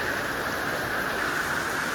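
Rain falls harder around a mobile home carport, a dense, even hiss of drops on surfaces that holds steady throughout with no talking.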